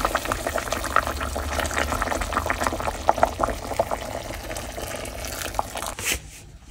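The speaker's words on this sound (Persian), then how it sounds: "آب جوش رو که ریختیم درش رو میذاریم که قشنگ جا بیافته." Boiling water pours steadily into a pan of frying vegetables for Gilani-style sour shami, with a bubbling, splashing rush, then cuts off abruptly near the end.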